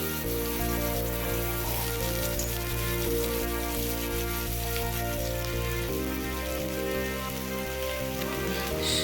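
Snake gourd pieces sizzle steadily in a hot oiled wok, a dense continuous frying hiss under a steady musical background.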